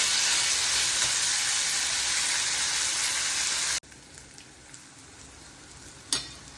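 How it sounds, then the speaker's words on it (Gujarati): Garlic and ginger pieces sizzle loudly in a pan of onions being sautéed until pinkish, a steady dense hiss that drops abruptly to a softer crackle partway through, with one brief clatter near the end. "લસણ અને અદરકના કટકા કરી લીધા છે, એ પણ અંદર નાખી દઉં છું. આ બધી વસ્તુ આપણે સાતરી લેવાની છે વ્યવસ્થિત"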